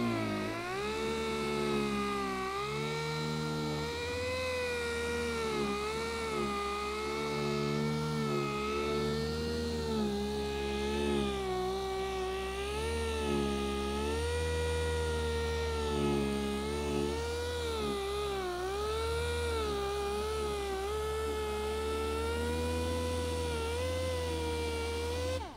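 High, steady whirring of a pneumatic polisher, like a dentist's drill, running continuously with slight wavering pitch, close and loud, no talking, while detailing a Ford Focus.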